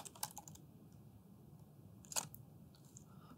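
Keystrokes on a computer keyboard in a quiet room, a few light clicks near the start and a sharper cluster partway through, soft and sparse against faint background hiss.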